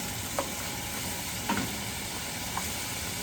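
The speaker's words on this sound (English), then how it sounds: "I'm going to add some of the Swiss chard and let that kind of wilt a little bit in there." Swiss chard wilting in olive oil in a pan gives a steady, soft sizzle, broken by three brief light clicks spaced about a second apart.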